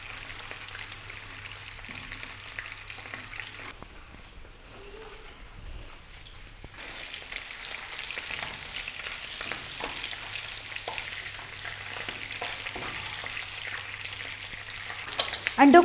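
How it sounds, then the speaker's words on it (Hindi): Eggs frying on a low flame for an egg korma curry, a soft steady sizzle with light crackle continuing throughout, quieter for a moment in the middle. "अंडों को हमने लो फ्लेम पर फ्राई करना है।"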